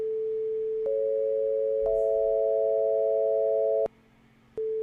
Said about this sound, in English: This is a Pythagorean, also known as just major triad